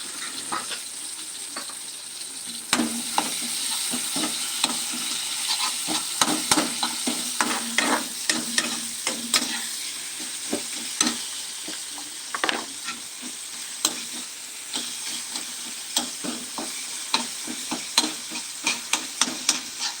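Ingredients for drumstick sambar sauté in a pan at home, giving a steady sizzling hiss broken by frequent scraping and clinking strokes of a spatula that stirs them throughout.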